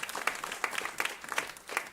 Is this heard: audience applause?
yes